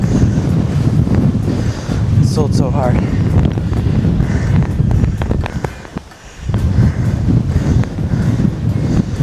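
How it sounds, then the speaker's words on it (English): Strong seaside wind buffets the microphone on a run near crashing waves, a loud, continuous roar that dips briefly before surging back, with someone speaking through it. "This wind. Very windy."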